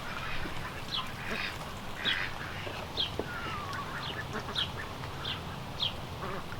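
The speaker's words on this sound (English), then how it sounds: "you can see once again that the ducks keep most of the weeds down." Ducks in a mulched garden quack repeatedly at irregular intervals about a second apart, moderately distant over a soft outdoor background hiss, with no one talking.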